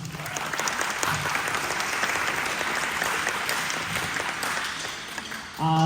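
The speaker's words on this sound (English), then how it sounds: "Yeah, round of applause" An audience at a school spring band concert claps steadily for several seconds, a dense, even applause that fades slightly before a voice begins at the end.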